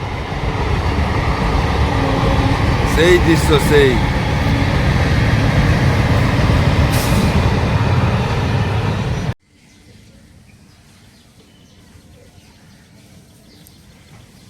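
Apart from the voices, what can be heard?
train passing from Dum Dum towards Belgharia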